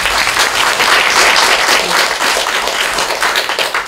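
Applause from an audience at a Korean food forum after a lecture on temple food and fermented sauces, steady dense clapping that fades toward the end.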